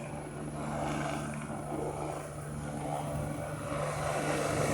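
An aircraft lifts off from Sanford Medical Center in South Fargo, North Dakota, a steady, moderately faint engine drone with a constant low tonal hum, gradually swelling, with no one talking.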